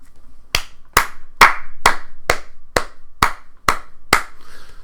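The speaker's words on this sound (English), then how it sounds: "That was me clapping myself for being exceptionally clever." Nine sharp hand claps ring out in a steady, evenly spaced rhythm, loud and close, with a short room echo after each and nothing else in between.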